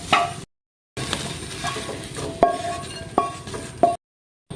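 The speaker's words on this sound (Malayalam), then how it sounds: "നല്ലതുപോലെ എണ്ണയ്ക്കകത്ത് വഴറ്റിയെടുക്കാം. ചെറുതായിട്ടൊന്ന് ഫ്രൈ ആയിട്ടുണ്ട്." Soybean chunks fry in hot oil while a spoon stirs them, giving a soft sizzle broken by sharp scrapes and clinks against the pan, with two brief silent gaps.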